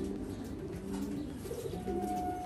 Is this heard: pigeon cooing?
yes